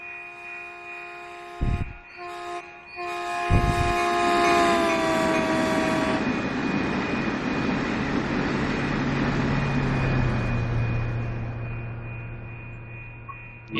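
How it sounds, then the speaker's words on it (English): Long, loud multi-tone horn blasts from an MP36 locomotive in Train Sim World 3 on the Peninsula Corridor, with two short blips before a sustained chord, then a steady engine hum and rail rumble. "We gotta sound the horn"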